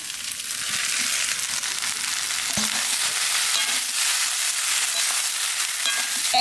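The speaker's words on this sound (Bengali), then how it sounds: "এখানে আলু দিয়ে দেবো, ভাজা আলু।" Fried potato pieces sizzle and crackle in a pan with spices being stir-fried, a steady bright frying hiss punctuated by occasional soft stirring scrapes, fairly close and continuous with no talk.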